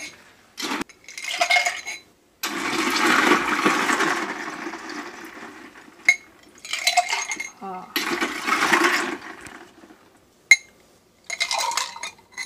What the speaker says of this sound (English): when you hear the ice, it just sounds so yummy